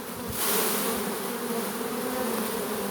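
Honeybees from a swarm hum in a loud, close, unbroken drone that swells briefly near the start, with no one speaking.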